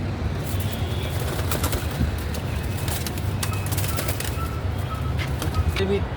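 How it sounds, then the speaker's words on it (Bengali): A female white pigeon moves about inside a cage, giving faint rustles and soft taps and shuffles over a low, steady background hum. "এটা একটা ফিমেল কবুতর"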